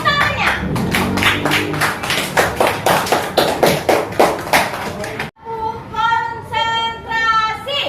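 A classroom of children clapping in a sharp, regular rhythm of loud claps for about five seconds, then young voices chanting together in unison.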